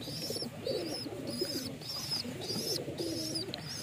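Domestic pigeons coo in low, repeated throaty phrases while a mother pigeon feeds her two chicks, with a steady high chirping in the background and no talking.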